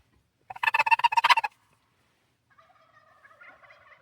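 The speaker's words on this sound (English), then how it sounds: "we just heard a turkey" Wild turkeys in the Idaho mountains let out a loud, rapid, rattling gobble lasting about a second, followed by quieter, more distant bird calls trailing off.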